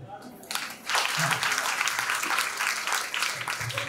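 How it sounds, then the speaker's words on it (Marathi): Birthday party guests applaud in a hall, a dense burst of clapping that starts after a moment and carries on steadily and fairly loud for several seconds. "सर्वात जास्त टाळ्या या नेहमी मम्मीसाठी झाल्या पाहिजे"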